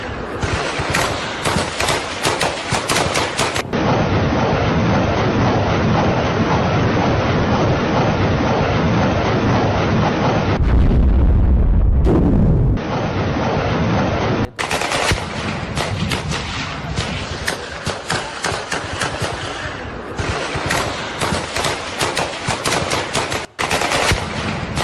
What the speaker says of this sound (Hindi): ये है ऑपरेशन त्रिशूल और गोलियों की तड़तड़ाहट पाकिस्तान को डराने के लिए काफी है